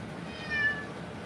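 A long-haired cat being groomed lets out a single short, thin meow, faint against a quiet room background.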